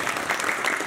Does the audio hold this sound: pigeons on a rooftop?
no